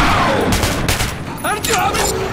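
Gunfire in Metro 2033 Redux rings out as several loud, close bursts of shots in quick succession, with a voice shouting over the shooting.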